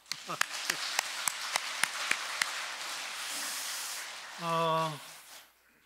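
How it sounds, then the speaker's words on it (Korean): Applause from a church congregation: a few sharp, evenly spaced claps build into a sustained wash of clapping, which fades as a voice begins to speak. "박수 한번."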